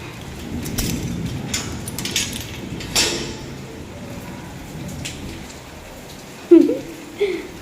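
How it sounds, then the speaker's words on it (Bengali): Rain that has eased but still falls outdoors, a soft steady hiss of drops with a few sharper taps and knocks standing out near the end. "বৃষ্টির জোরটা অনেকটাই কমে গেছে, কিন্তু এখনও পড়ছে"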